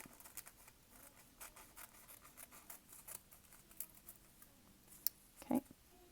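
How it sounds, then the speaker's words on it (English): Scissors cut through a stack of paper for a craft project, giving faint, close snips and rustling scrapes in an irregular rhythm, with a brief louder knock near the end. "I like to stack my papers like this because then it's easier to cut."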